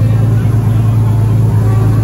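A turbocharged Toyota Supra drag car sits at a drag strip at Atlanta Motor Speedway. A loud, steady engine roar with a strong low drone fills the whole moment, and excited voices may be buried beneath it.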